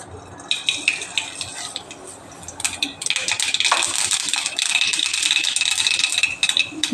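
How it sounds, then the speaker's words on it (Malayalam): Mustard seeds splutter and crackle in hot ghee while tempering for a lentil curry, starting as sparse pops and building into a dense, loud, continuous sizzle. "കുറച്ച് നെയ്യ് മതി നമുക്ക് കടുക് ഇട്ട് കൊടുക്കാം"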